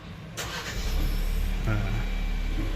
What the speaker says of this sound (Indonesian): tinggal kita injak rem aja dan tekan start engine button yang ada di sebelah kiri sini untuk menyalakan mesinnya